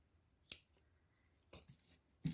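Scissors snip through embroidery thread on a crochet amigurumi doll, three quiet separate cuts about a second apart, with no talk.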